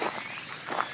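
Footsteps of someone walking outdoors, picked up by a TASCAM microphone on an iPhone 4, a couple of soft steps close by over a steady wash of outdoor noise.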